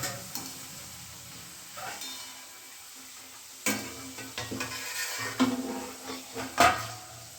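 French fries frying in hot oil and being stirred, a soft steady sizzle broken by a series of scraping, clinking stirs of a utensil against the pan, close and fairly quiet.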